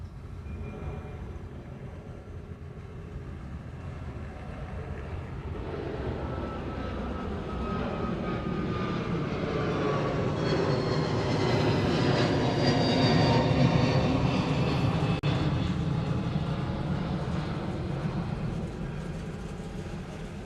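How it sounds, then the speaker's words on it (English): A Delta airliner departs on runway 8 left at Honolulu airport, heard as a distant, broad jet roar. The roar swells steadily toward a peak around two-thirds of the way through, then eases slightly. "So this is that Delta we saw a minute ago. Sneaking out of here on 8 left."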